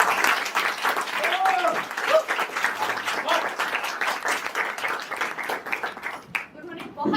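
Theatre audience applause for the playwright Umesh Pandey after a comedy stage play, sustained crowd clapping that carries on for several seconds and thins out near the end.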